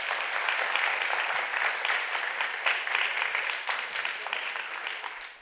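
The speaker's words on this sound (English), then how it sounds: "Let's give our winner and all of the finalists in that second category another round of applause." A large audience at an evening awards ceremony applauds the winner and finalists, a continuous even wash of clapping that fades slightly at the close.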